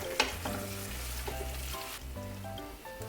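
Rice being mixed into a squid kimchi risotto in a pan, with soft sizzling and stirring over a continuous low hum and an occasional clink of the utensil.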